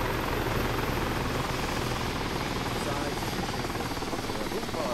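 Little Bird helicopter in the Arma 3 combat game, a continuous loud rotor thump and engine whine holding steady throughout, close and dominant with some voices underneath.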